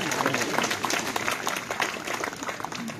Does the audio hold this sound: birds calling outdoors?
no